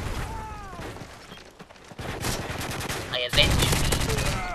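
Gunfire in Modern Warfare 3 team deathmatch, bursts of rapid shots and sharp cracks, with a player talking briefly.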